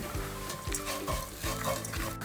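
Green peppercorns tossed into masala frying in a pan for Kuttanadan duck curry, with soft sizzling and a spoon scraping and stirring in a repeating rhythm, quiet and close.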